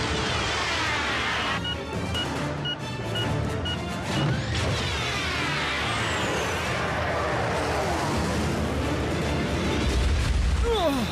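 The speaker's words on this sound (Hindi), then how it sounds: "क्यों, कैसा लगा ये धमाका?" A cartoon explosion in a Hindi-dubbed Transformers Prime episode: a long rumbling blast with crashing debris, metallic clanks and whooshes that stays loud and dense throughout, a deep boom swelling near the end.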